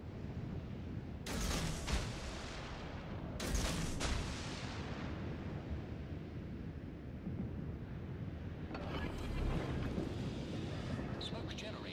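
Warship guns in a naval video game fire at a target, with the destroyer Z52 and the cruiser Des Moines in the battle: two loud broadband blasts, then a longer roaring salvo later, over a steady wind-like rumble.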